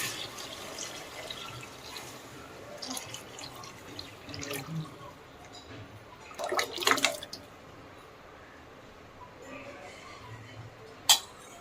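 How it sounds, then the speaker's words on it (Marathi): Water poured into a hot pan of spiced tempering splashes and bubbles up near the mic, with a few metallic clinks and a voice talking faintly underneath. "आता मी हे पूर्णाचं काढलेलं पाणी दिलेल्या फोडणीत ओतणार आहे"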